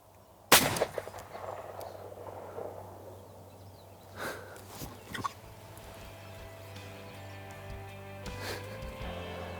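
A single sharp, loud shotgun blast at a wild turkey during a spring hunt, followed by a low hum, rustling, faint breaths and a few small knocks in the quiet woods.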